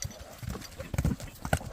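A strong horse's hooves clip-clop in short irregular bursts of close, solid strikes on hard ground.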